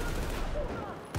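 Rapid gunfire in the video game Battlefield 4, a brief burst of shots over background game noise with no talk.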